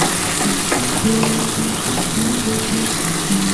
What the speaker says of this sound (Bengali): ভালো করে পেঁয়াজটা ভাজতে হবে